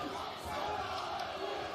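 Crowd at a boxing match cheering for Denzel Bentley during his fight against Zhanibek Alimkhanuly, a steady, dense roar of many voices sustained throughout without breaks.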